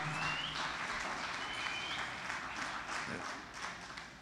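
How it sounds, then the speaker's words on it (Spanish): Church congregation applauding during a sermon, a soft, continuous spread of many hands clapping at a distance, steady with slight swells, faint overall. "Dese un aplauso, amada hermana"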